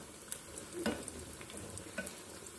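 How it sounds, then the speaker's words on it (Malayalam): Fish cutlets frying over a medium flame in a pan, a soft steady sizzle with a few sharper spits and crackles, quiet and close with no talking. "ഒരു മീഡിയം ഫ്ലെയിമിൽ വേണം ഇത് വറുത്തെടുക്കാൻ"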